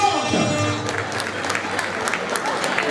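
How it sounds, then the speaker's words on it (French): Audience applause at an evening gala for French sailors, a steady dense wash of clapping that holds evenly throughout, with music and voices faintly mixed underneath. "Est-ce qu'on peut applaudir très fort pour les Marins de France?"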